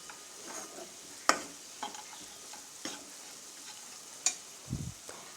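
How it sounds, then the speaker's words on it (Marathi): Dry fruits are stirred into a chana dal ladoo mixture in a pan over low flame, with a faint background sizzle and several distinct spoon scrapes and taps spaced about a second apart, close and alone. "त्यानंतर हा सुका मेवा पण यात घालून मिक्स करून घेऊया"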